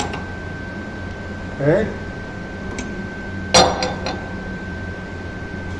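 A drill bit is tightened into a power drill's chuck, giving a few sharp, close metallic clicks spaced apart over a steady background hum, with a brief spoken word just before them.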